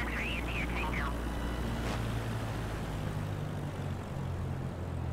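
Airplane engine at idle throttle on final approach over a runway in Microsoft Flight Simulator 2020, a steady low drone that runs the whole time with no change in level, and brief chirping sounds near the start.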